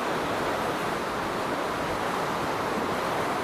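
Water of the Chinchipe River during a raft crossing in San José de Lourdes, Cajamarca, Peru, with light rain falling: a constant broadband rush of flowing water and wind, steady and fairly loud.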